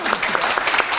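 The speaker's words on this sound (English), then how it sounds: "let's give them a round of applause" Audience applause after an improv comedy set, a dense, steady wash of many hands clapping at close range that fills the whole moment without any voices.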